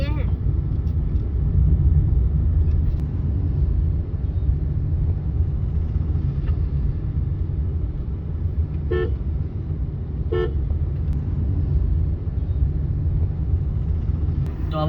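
Tata Nexon EV 30kWh electric car climbing uphill from Rishikesh toward Kanatal, a steady low road and wind rumble filling the cabin throughout, with a few faint horn toots in the distance.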